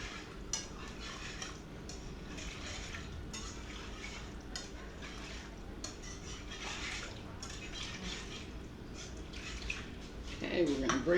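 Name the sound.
whisking milk into a pot with a whisk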